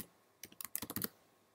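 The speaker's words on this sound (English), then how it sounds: "we want to type Ireland." Quick typing on a computer keyboard, entering a filter pattern in Google Analytics. About a dozen crisp, close key clicks come in an uneven burst after a short quiet start, then stop.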